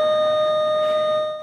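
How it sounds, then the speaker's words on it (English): A high school bell sounds as a single sustained electronic tone, loud and steady, holding a pure pitch before fading out near the end. "The school bell rings."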